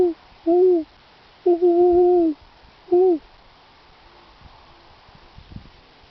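An owl hoots outdoors, four clear, loud hoots in an uneven series, one longer and drawn out, followed by quieter background rustle.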